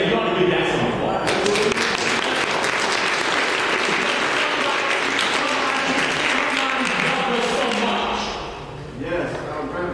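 A meeting audience applauds in a loud, continuous wave of clapping that tapers off near the end, with some voices mixed in.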